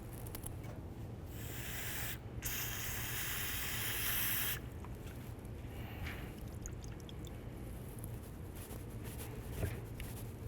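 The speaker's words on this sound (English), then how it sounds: "I'm just going to clean it up with some parts cleaner" Parts cleaner is sprayed from an aerosol can onto the oil cooler of a 2007–12 Nissan Altima, giving a close, sustained airy hiss in a few long bursts, then quieter scattered hissing and faint clicks.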